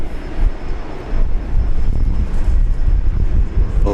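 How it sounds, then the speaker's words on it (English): An Embraer 190 airliner departs from Brisbane International with a loud, close, rumbling jet roar that swells after the first second and holds steady. "Embraer 190 going out there"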